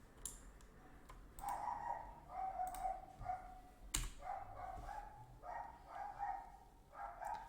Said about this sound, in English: I don't know why the dog is barking so loud outside.